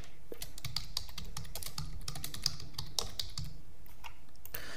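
Rapid, steady typing on a computer keyboard while entering a meeting subject, close and clear with sharp individual key clicks and no talking.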